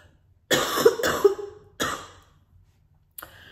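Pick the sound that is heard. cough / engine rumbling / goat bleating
cough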